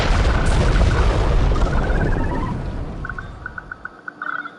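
Loud boomy explosion in the Star Trek TOS Starfleet 2270 video game, a sustained rumbling blast that slowly decays, followed by a few short beeping electronic tones near the end.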